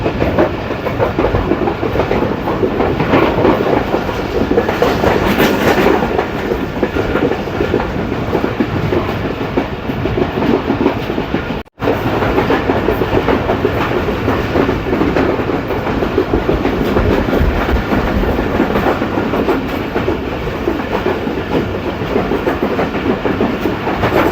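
The Pakistan Express rolls along the rails toward Rohtas Fort with a steady, close rumble and rhythmic clickety-clack of wheels on track joints, briefly cutting out near the middle before resuming.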